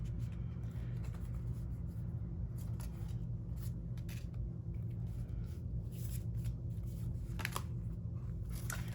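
Tarot cards riffle and shuffle repeatedly over a steady low rumble, with papery flicks and soft slaps spread across the whole stretch.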